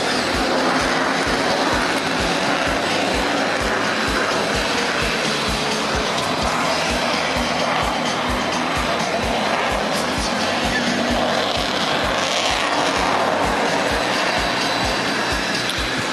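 A Eurofighter Typhoon jet of the Italian Air Force makes a slow flight at an airshow, giving a loud, steady, broadband roar that holds throughout.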